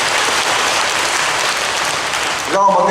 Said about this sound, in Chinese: 我们用拍掌来荣耀我们上帝